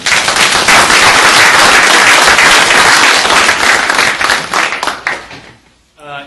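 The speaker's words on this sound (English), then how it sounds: "Let's give them a round of applause." Loud, close applause from a seated audience at a transportation speaker series, honouring staff members; dense clapping that tapers off toward the end before a voice starts speaking.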